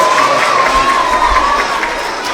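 Cheering and crowd noise rise from children at a K–2nd grade school award assembly, a lively mass of young voices and clapping that stays fairly loud and even before easing off.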